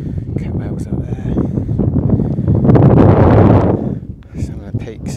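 Wind on a hill near Catbells in the Lake District, roaring and buffeting against the microphone in strong gusts that swell and fade, with someone talking through much of it.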